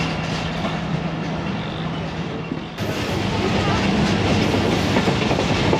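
The 7 Up Tez Gam passenger train runs near Eminabad, Pakistan, with a loud, continuous rumble and clatter of wheels on rails that swells louder partway through, heard close up.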